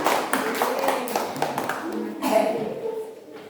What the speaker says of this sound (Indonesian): Beri tepuk tangan dulu untuk mereka